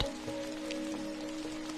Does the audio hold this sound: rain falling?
yes